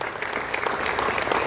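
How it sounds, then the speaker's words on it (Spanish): Applause from an audience at a bicentennial forum, a dense steady burst of clapping, loud and close, filling the whole brief moment. "Eso merece un aplauso, ¿verdad?"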